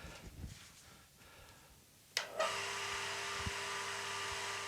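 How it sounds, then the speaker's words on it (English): An air compressor's electric motor is switched on with the compressor pump detached. After a faint, quiet stretch it starts with a sharp click and spins up to a steady, loud whine and hum that holds to the end. "Motor spins up beautifully, right up to speed as well, without any load attached to it."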